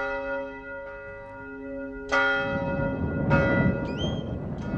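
Church bells of a hillside cemetery church in the Andes below the Cordillera Blanca ring out, several clear strikes with long sustained humming overtones building into a dense, resonant peal, heard alone.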